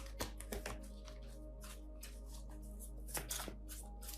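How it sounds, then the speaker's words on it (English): Tarot cards being shuffled by hand, a few soft riffling bursts and taps spread across the stretch over a steady low hum, quiet and close with no talking. "to save time, I'm just going to shuffle till it feels right"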